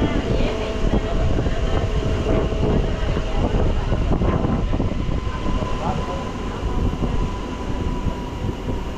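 A MEMU passenger train runs between Karamadai and Periyanaickenpalayam, a loud continuous rumble with clattering wheels and rattling carriage noise from onboard, with someone talking over it.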